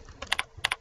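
Short burst of keystrokes on a computer keyboard, about six crisp clicks in an uneven rhythm, close and fairly quiet, with no voice.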